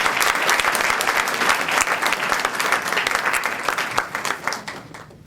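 Sustained, dense applause from an audience at a presidents' celebration honoring past presidents, loud and steady throughout before tapering slightly at the end.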